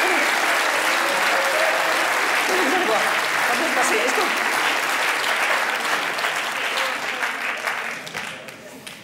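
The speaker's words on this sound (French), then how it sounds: "sous les applaudissements du public" Live audience applause, loud and continuous, with a host speaking over it before the clapping tapers off at the end.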